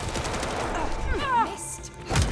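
Gunfire in the Vampire: The Masquerade Bloodlines 2 video game, a quick burst of shots mixed with game effects and a voice talking over it.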